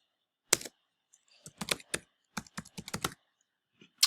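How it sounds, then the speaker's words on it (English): Keys on a computer keyboard are tapped in a short, irregular burst of crisp clicks, close and clear against a quiet room. "So let's go ahead and type that."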